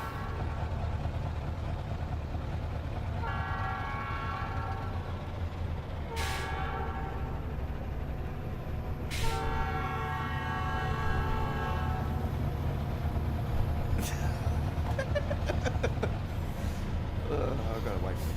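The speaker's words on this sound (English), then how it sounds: "I've got to wait for the train anyway." Train horn blasts several times at a railroad crossing in American Truck Simulator, loud and near over a steady low rumble of rolling rail cars, with a truck engine idling underneath.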